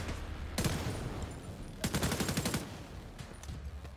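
Automatic weapon fire in the video game The Division 2, with rapid bursts of shots in two long volleys and a few scattered shots after, close and loud, no talking.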